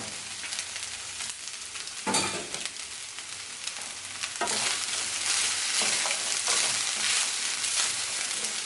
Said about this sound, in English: So let's add the black beans.